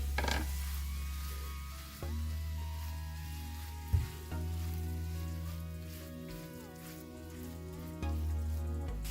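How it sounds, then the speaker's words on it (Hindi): Keema (minced meat) fries with spices in a pan, giving a steady close sizzle with occasional stirring scrapes and a low hum underneath, and no talking. "अब हम इसे अच्छी तरह कीमे को फ्राई करेंगे"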